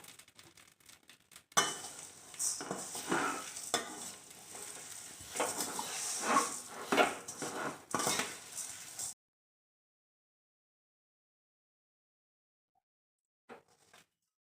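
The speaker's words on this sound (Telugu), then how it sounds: "ఈ సేమియాని గోల్డెన్ కలర్ వచ్చేంత వరకు వేయించుకోవాలి" Vermicelli roasting and being stirred in hot ghee in a pan, a steady close sizzle with scraping strokes for several seconds, then abrupt silence and a faint clink near the end.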